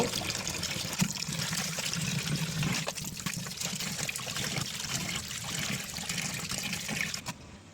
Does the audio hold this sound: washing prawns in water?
yes